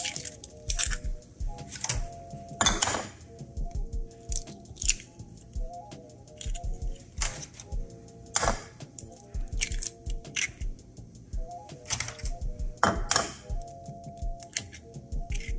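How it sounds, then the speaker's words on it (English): Eggs are cracked into a pan while cooking Spam and scrambled eggs: sharp, brief taps and cracks recur irregularly, close up, with soft wet squishes and faint ticking between them. "Crack our eggs."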